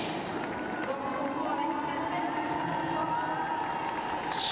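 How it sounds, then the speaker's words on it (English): A Paris 2024 Para Athletics stadium crowd cheers an athlete stepping into the throwing circle, a steady, distant wash of cheering and chatter that carries on throughout. "Crowd gives him a good reception"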